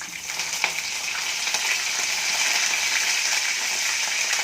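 Curry leaves sizzle and fry in hot oil while making lemon rice, a steady bright crackling hiss that grows slightly louder and stays close, with no talk.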